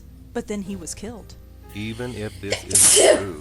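A single sharp sneeze bursts out near the end, loud and close, following a stretch of spoken dialogue from characters in a game.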